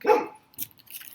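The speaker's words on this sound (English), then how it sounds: "Oh, that's my dog." A single short, sharp dog bark sounds indoors at moderate volume, followed by a couple of faint soft noises and quiet.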